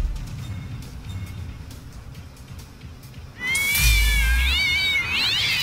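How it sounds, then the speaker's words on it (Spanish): Cats meowing in the South Park video game, a faint game-sound bed at first, then a sudden loud burst of several wavering, yowling meows near the end. "Pero los gatos yo no sé si me quiten tanto."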